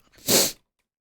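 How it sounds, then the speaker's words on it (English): A single close, loud sneeze bursts out and cuts off abruptly, followed by silence. "I'm going to sneeze in just a second"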